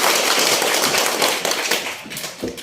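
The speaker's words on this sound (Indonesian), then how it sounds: "Tepuk tangan untuk kita semua" Students in a university teaching-practice classroom clap together in a dense, sharp burst of hand claps that fills the whole moment, with no talking.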